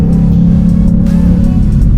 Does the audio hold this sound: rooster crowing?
no